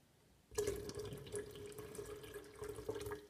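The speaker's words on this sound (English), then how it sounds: "I add cold water." Cold water runs from a tap into an electric kettle, a steady splashing stream starting abruptly after a moment of quiet and continuing close and clear, with no talking.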